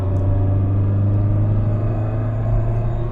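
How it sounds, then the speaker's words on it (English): A 1994 Peugeot 106 Rallye engine hums at a steady low drone as the car shifts from second into third gear, driven gently, loud and close with a constant rumble and no talk. "There's second gear into third, taking it slow, no problem."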